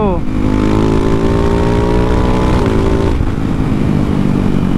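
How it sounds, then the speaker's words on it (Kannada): A Ducati Hypermotard 698 Mono single-cylinder motorcycle engine revs hard, its pitch climbing and holding high, then dropping back toward the end; loud, steady and close. "ಏನು ರೆವ್ ಆಗೋದು ಗುರು ಇಂಜಿನ್ ಇದು"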